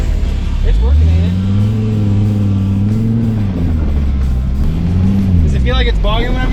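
A Volvo's engine revs and labors while driving off-road, its droning pitch rising and falling in long swells and bogging under throttle, loud and steady throughout with voices talking over it.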